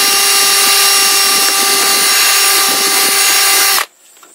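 A loud, steady whine of a power drill running continuously for several seconds, then cutting off abruptly into quiet.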